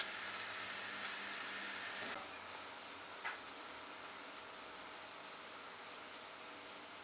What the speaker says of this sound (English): For mustard mutton, first fry the sliced onion.